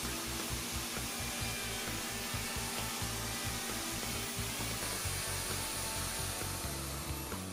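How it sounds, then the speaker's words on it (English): A plunge router cuts a wooden tenon in a Leigh FMT mortise and tenon jig, producing a loud, continuous high whine with a low rumbling chatter beneath it, steady throughout and without speech. "Plunge the router and route the tenon."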